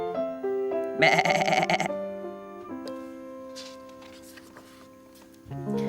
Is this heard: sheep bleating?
yes